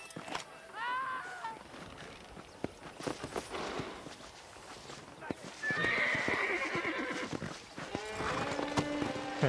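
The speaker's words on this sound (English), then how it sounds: "I'm just scaring the hell out of her horse." A horse in the western game Red Dead Redemption whinnies loudly near the start, then hooves clop in a loose rhythm with snorts, a second neigh and scraping sounds.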